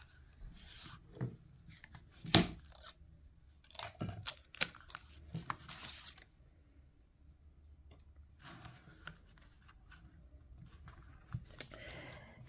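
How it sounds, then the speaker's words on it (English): Paper wrapping is peeled and torn off a sealed tarot and Lenormand combined deck in several short, crinkly rips and rustles, close and fairly quiet, separated by brief pauses. "Let me take off the paper."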